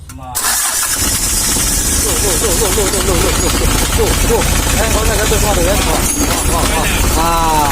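A Mitsubishi L300 engine cranks and catches on a cold start, then runs loud and uneven with a rough, wavering idle, close by, with a voice speaking over it.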